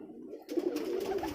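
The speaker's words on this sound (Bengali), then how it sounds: "এটা হলো আমাদের রাজশাহীর অরিজিনাল গিরিবাজ রেসার।" A Rajshahi original Giribaj racing pigeon coos close by, a brief low warbling call that swells after a short quiet moment.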